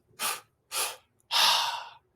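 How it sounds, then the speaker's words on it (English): Two quick, sharp breaths drawn in through the mouth, then one longer, forceful exhale out the mouth, close and clear with no talking. "we're going to do 2 inhales through the mouth, 1 exhale out the mouth"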